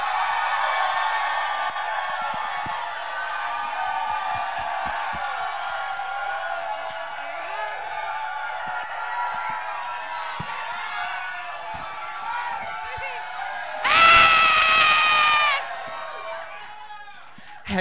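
A crowd at a RuPaul's Drag Race All Stars 7 viewing party at Roscoe's cheers and chatters steadily for drag queen Pangina Heels, swelling into a loud, brief burst of whoops and applause near the end.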